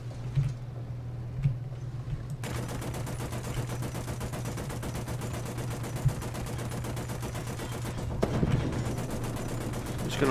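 Tank cannon and gunfire in War Thunder, featuring an M4A1 tank, a steady rattle of rapid fire with a few sharper isolated shots, set over a constant low engine hum.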